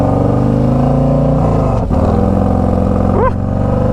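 Harley-Davidson Street Glide Special FLHXS V-twin idling close by, a steady, loud low throb with a brief rev blip near the end.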